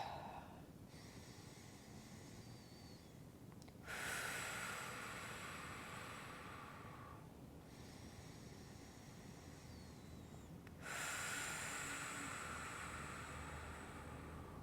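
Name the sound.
deep belly breathing during prenatal yoga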